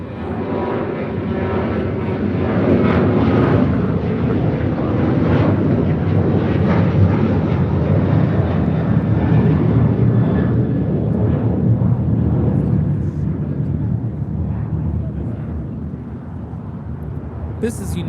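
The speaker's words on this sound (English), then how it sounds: "This is United 1821 taking off to Denver on a 737-900ER." A United Boeing 737-900ER jet roars steadily on its takeoff run at LAX, a loud broadband engine rumble holding throughout and easing slightly near the end, with some wind buffeting and faint voices underneath.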